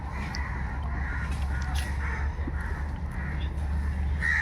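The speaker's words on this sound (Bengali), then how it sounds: "এখানে কাক ভর্তি গাইস" Crows caw in the distance at an eco park, several brief calls scattered over a steady outdoor background hum, fairly faint and with no clear talk.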